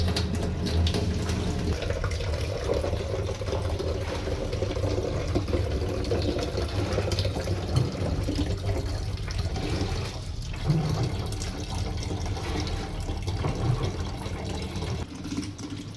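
Kangen water filter runs a steady stream of water into a container, a constant close rushing and splashing that lasts throughout without pauses.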